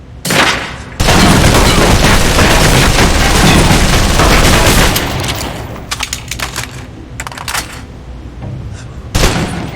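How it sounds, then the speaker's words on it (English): Submachine gun from the spy game Alpha Protocol emptying a full magazine in one loud, continuous burst of rapid shots lasting several seconds, followed by scattered shorter bursts and a final close report. "Now, let's move on to the submachine gun. Now let's empty the clip."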